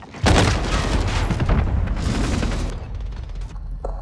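A grenade detonates in the video game Call of Duty MW, a sudden loud boom followed by a rumbling, crackling blast that fades over a few seconds.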